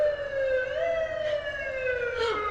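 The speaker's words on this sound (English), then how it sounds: "A cop playing with their siren." A police car siren wails up and down in a short, playful burst, a clear rising and falling tone heard from some distance over faint road noise.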